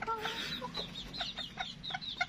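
Bantam chickens in a scratch pen cluck in quick, soft bursts, several birds overlapping at a moderate distance over faint background noise.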